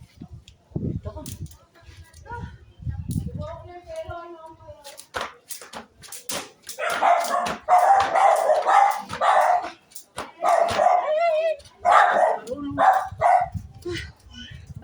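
Several dogs bark in bursts from the middle onward, fairly close and loud, with rhythmic thumps from a jump rope during outdoor exercise and people talking throughout.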